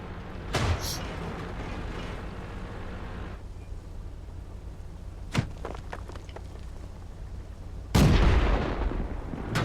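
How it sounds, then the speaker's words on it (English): Artillery shells firing in a World of Tanks battle: sharp, booming blasts at about 0.6, 5.3 and 8 seconds, the last loudest and nearest, over a steady rumble of tank engine noise. "Artillery's got a bead on him."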